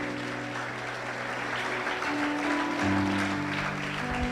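A church congregation applauds steadily throughout, a broad, even crackle of clapping over sustained keyboard or organ chords.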